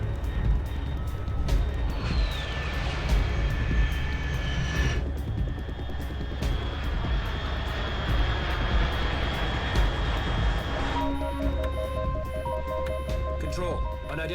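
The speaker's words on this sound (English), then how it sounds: "Unidentified aircraft detected" Aircraft passing overhead in Metal Gear Solid 2: Sons of Liberty, a broad continuous engine roar with rising and falling tones across the whole stretch, with game audio and a voice over it.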